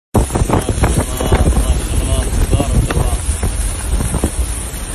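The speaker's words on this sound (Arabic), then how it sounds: "هذا الرياح الهابطة، الأمطار غزيرة اللي على مكة المكرمة" Strong downdraft wind with heavy rain over Al-Naseem in Mecca, a loud continuous roar buffeting the microphone throughout with dense rushing noise and no clear pauses.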